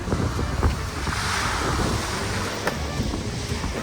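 Sea surf rolls and breaks at the shore ahead of a coming storm, with continuous wind buffeting the microphone and no voices.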